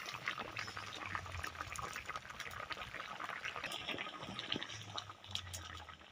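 Dal lentils with cauliflower, carrot and potato bubble in a pot, giving a soft, steady simmering and gurgling wash that stays faint and even throughout, with no talking.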